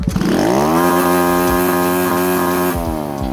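A 125cc engine on a Grom clone dirt bike revs hard, its pitch climbing quickly and then holding a loud, steady high-rev buzz close by, with a few brief dips near the end.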